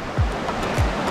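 A white-water stream flowing beside a hiking trail, a steady rushing wash of water heard close by, with two brief low thumps from wind or handling, and no talk.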